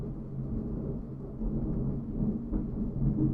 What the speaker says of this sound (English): that is thunderous